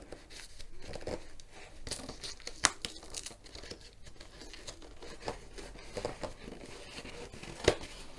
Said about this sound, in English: See if I can just tear it.